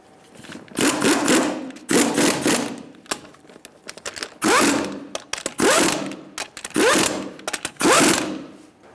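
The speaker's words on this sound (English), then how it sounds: "Using a 19mm, we're going to snug them up in a star-like pattern." A 19mm socket ratchet snugs the front-wheel lug nuts on a 1998-2011 Ford Ranger: about seven bursts of rapid mechanical clicking, each roughly a second long, separated by short pauses, close and fairly loud.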